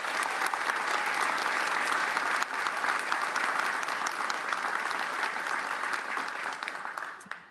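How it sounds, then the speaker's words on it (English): A large audience at a state education rankings event applauds in a thick, continuous wash of clapping that holds steady and then tapers off toward the end. "A round of applause to all of you."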